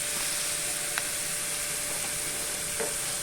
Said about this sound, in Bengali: এবার আমি একটু পোস্ত ছড়িয়ে এটা আর একটু ভাজা ভাজা করব।